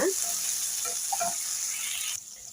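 Onions and tomato frying in oil in a village-style kitchen, a steady bright sizzle that drops off abruptly near the end of the short clip.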